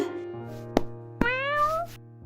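A small cat meows alone, a long rising-and-falling call with two sharp clicks just before it, close and fairly clear over a low steady background hum.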